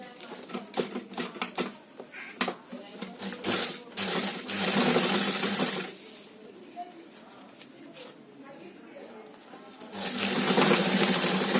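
A sewing machine stitches fabric for a homemade tiffin bag in quick rattling bursts, stopping and starting, with a long steady run near the middle and another at the end, close and moderately loud, with a voice talking between the runs.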